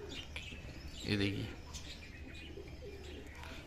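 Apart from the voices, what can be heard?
pigeons cooing, high flyer pigeons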